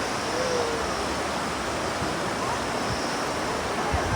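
Water of the Indus river near Sonamarg in Kashmir rushes past in a loud, continuous roar of broadband noise, close and steady throughout with no talk.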